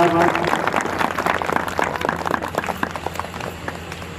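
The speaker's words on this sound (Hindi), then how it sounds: "एक बार जोरदार ताली बजा दीजिए आप सभी लोग" An audience applauds at an annual conference gathering, dense hand clapping from a crowd that starts loud and gradually thins and fades over a few seconds.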